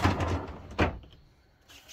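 Drawers in a 2008 Compass caravan being opened and closed, making two hard wooden slides and knocks close by, followed by near silence.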